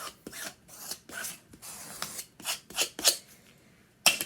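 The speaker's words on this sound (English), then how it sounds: "I'll use my little burnishing tool, I guess, to stick it down to our mat." A small burnishing tool rubs fabric down onto a Cricut cutting mat in a series of quiet, close, rasping strokes, each a short scrape separated by brief pauses, with a few sharper scuffs near the end.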